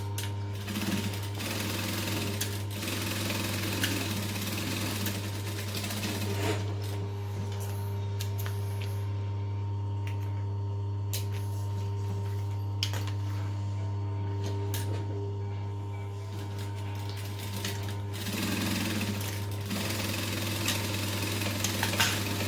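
A sewing machine stitches down the sides of a backpack with a 2.5 stitch length, running in a steady, close mechanical hum with a constant rapid needle rhythm for most of the time and a brief slowdown partway through.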